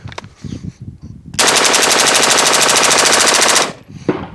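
A rifle fitted with a forced reset trigger fires one long, rapid, loud burst of about two seconds, the shots running together in a fast, even rhythm, after quieter shuffling and handling noise.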